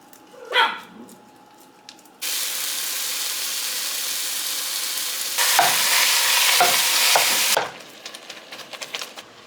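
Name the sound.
ground beef with cumin and oregano frying and stirred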